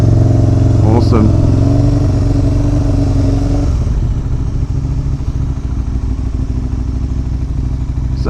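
A motorcycle engine drones loud and steady while riding, its pitch dropping partway through as the rider eases off, with someone talking over it.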